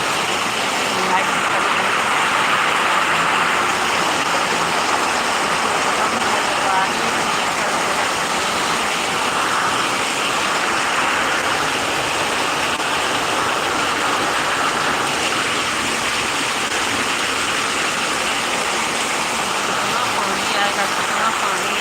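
Heavy rain and strong wind make a constant broad wash of pouring water and rushing air, loud and unchanging over a long stretch, with no clear breaks.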